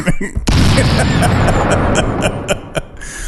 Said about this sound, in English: Where's that explosion?